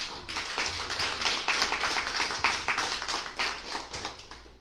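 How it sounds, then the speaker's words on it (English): An audience applauds a speaker being introduced at an indoor gathering, a brisk patter of many hands clapping at once, fairly close and sustained without any voices. "I haven't had this many people clap for me in a long time."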